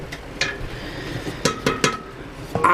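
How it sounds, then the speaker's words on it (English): A large bowl clinks and knocks against ceramic and metal while being fitted onto a lazy susan in a kitchen during sweet relish canning, a few sharp nearby chinks spaced out over a quiet background. "this big bowl has to go in there"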